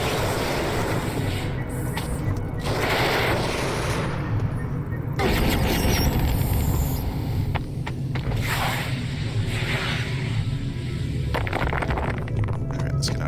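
Sustained turret gunfire and booming blasts from the sci-fi video game Genesis Alpha One fill the whole stretch as a dense, continuous barrage, with repeated bursts over a rumbling low background.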